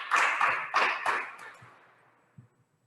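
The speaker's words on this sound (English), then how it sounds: "give them a round of applause" Audience clapping for student award winners at a junior high awards ceremony, a few bursts of applause up front that quickly thin out and fade, with a couple of stray claps near the end.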